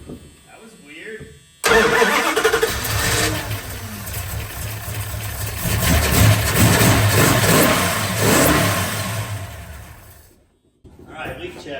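A 1974 Dodge Dart Sport with a swapped 408 engine cranks and catches, then settles into a loud, rough idle with slight revs. It cuts off near the end, followed by a faint sound.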